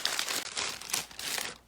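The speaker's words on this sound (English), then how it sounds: "I will wrap this in Saran wrap" Plastic cling wrap crinkles and rustles continuously as it is wrapped around a lump of clay, close up, in uneven bursts of crackling.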